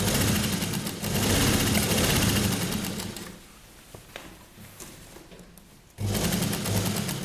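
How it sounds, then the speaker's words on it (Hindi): A sewing machine runs in steady bursts while stitching a straight seam along the edge of fabric, guided by the presser foot for a children's Patiala dress; loud and close, it pauses around the middle, then starts again strongly, with no talk. "ये जो 1 फुट है इसकी डिस्टेंस पर किनारे किनारे हम सिलाई लगा लेंगे।"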